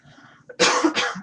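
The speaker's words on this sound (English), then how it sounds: "Excuse me for my cough." A single close cough in two quick bursts from someone with a cold, preceded by a faint throat sound.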